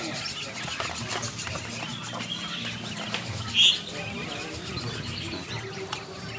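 Laying quails on a farm chirp and rustle in a busy, continuous chorus, with one brief sharp call standing out, while a person talks over them.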